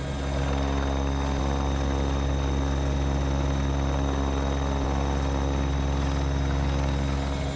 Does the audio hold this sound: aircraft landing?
yes